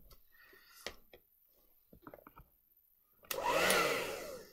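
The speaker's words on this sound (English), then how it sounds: "hair dryer" A hair dryer, used as a tool to loosen a Surface Book 1 or 2 screen, switches on after a few light clicks and taps and blows a close, rushing whoosh for the final second or so.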